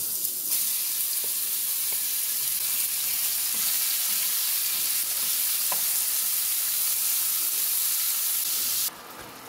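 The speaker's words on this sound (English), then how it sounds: "To my pot, I'm adding some vegetable oil, and this is just to saute the beef." Beef sautes in hot vegetable oil in a pot, a steady, loud hiss and sizzle running nearly the whole time with a few faint clicks, then dropping slightly at the very end.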